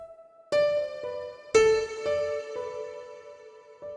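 Synth melody with humanized timing and randomized velocity, a few sparse plucked notes rising and decaying, each struck at a slightly different strength, fairly quiet and alone.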